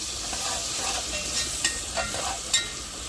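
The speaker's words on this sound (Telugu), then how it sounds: "ఇంకా ఇప్పుడైతే అల్లం పేస్ట్ వేగినాక చికెన్ అయితే వేసుకున్నాము" Chicken frying in a pan with browned onions and ginger paste for dum biryani, a steady close hiss and sizzle with a few sharp crackles and light stirring scrapes, no talking.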